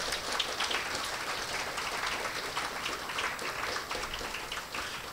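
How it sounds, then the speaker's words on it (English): Dense, sustained applause from a large audience at a school graduation ceremony, an even wash of clapping that holds steady without a break. "I want you to give him a round of applause now for that."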